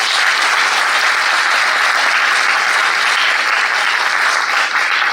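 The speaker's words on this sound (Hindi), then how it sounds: "इस बात के लिए तालियां बहुत जोर से होनी चाहिए।" A large audience at an awards event applauds loudly and continuously, a dense even wash of clapping from start to finish with no voices on top.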